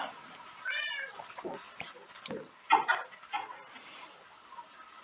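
Minecraft cats meow several times over a quiet game background, with short mews near and far and a few soft clicks between them.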